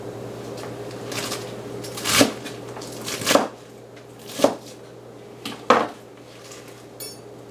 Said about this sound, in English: Now I turn it the other way and I start chopping this way.